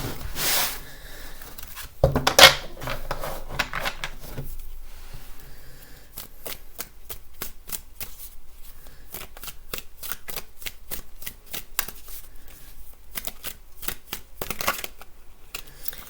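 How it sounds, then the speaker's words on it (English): A deck of tarot cards is shuffled by hand, starting with a few loud riffles and then settling into a long run of quick, crisp rhythmic card flicks close by, with no talking. "I'm just going to give it one more shuffle"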